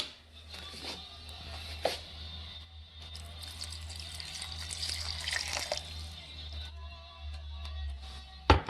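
Cup of water mixed with tomato bouillon poured into a crockpot of steak ranchero, giving soft splashing and trickling with a few small clinks, fairly quiet and close.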